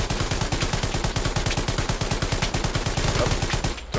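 A tank's machine gun fires in Hell Let Loose, a fast, loud, continuous burst of evenly spaced rounds lasting nearly four seconds before cutting off abruptly.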